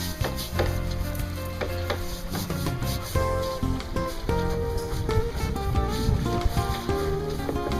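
Rich scrubs the deck of a sailboat under way in a breeze, a close, continuous rubbing and brushing with irregular strokes and scraping bursts over wind and hull noise.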